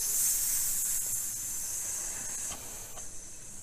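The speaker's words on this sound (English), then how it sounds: "Like steam escaping." A continuous hiss like escaping steam runs through the whole stretch, loud at first and easing slightly toward the end, with faint rustling underneath and no talking.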